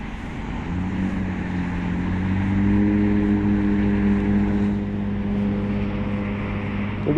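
A Hiley Tiger Supra dual-motor electric scooter, rated at 4600 watts, pulls away with a rising electric motor whine that climbs in pitch and holds steady, over rushing wind noise.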